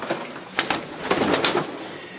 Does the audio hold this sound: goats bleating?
no